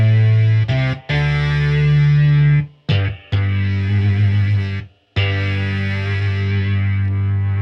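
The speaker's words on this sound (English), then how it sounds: "on some of these settings, they sound good for percussive playing, and then some of the settings sound good for more like holding a note" Electric guitar played through an EHX Mono Synth pedal, sustaining synth-like held notes with a buzzy, distorted tone, broken by a few short gaps before the notes ring on, loud and close with no talking.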